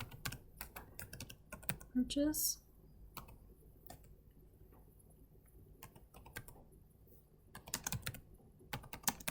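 Bursts of close keyboard typing, rapid clicky keystrokes that pause and resume, with a brief spoken word and a louder rustle near the start.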